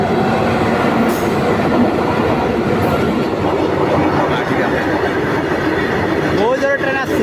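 A train rushes past close by, a loud continuous rumble and clatter of wagons on the rails throughout, with a brief rising squeal or horn-like tone near the end and voices faintly underneath.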